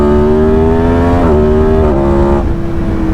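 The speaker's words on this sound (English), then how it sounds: "I think I feel the power most in 6th gear when I'm accelerating from probably 120 through to about 200 k's an hour." A sport motorcycle accelerating hard, its engine revving in a loud, steady, close drone that climbs in pitch, then drops briefly at each gear change before rising again.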